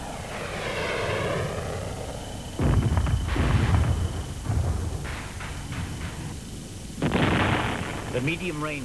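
A fighter-bomber called in to support ground troops drops napalm just ahead of the soldiers; a droning aircraft engine passes, then heavy blasts and rumbling explosions follow in bursts, loud and close, with a voice speaking over parts of it.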